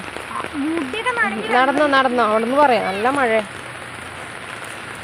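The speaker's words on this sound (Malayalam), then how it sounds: "നല്ല മഴയാണ് ഇന്ന്" Heavy rain falling steadily on surfaces nearby, a constant broadband hiss that runs the whole time beneath a person talking in the foreground.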